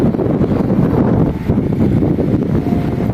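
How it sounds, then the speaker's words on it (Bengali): Strong wind roars steadily across the microphone on a sunny day where laundry is pegged out to dry, a continuous loud rumbling gust with no pauses and no voices. "দেখেন কি সুন্দর বাতাস"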